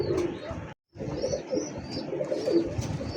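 Pigeons coo at a wholesale pigeon market that sells Rajgolla, Giribaz and Lahori breeds; soft repeated cooing and a few chirps sit in a busy, noisy background after a brief dropout.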